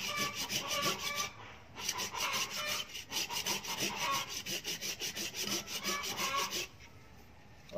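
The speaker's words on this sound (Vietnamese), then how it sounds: "Nhát cưa đầu tiên đây." A hand saw cuts through a peach tree branch with rhythmic back-and-forth rasping strokes, close by, continuing steadily before stopping near the end.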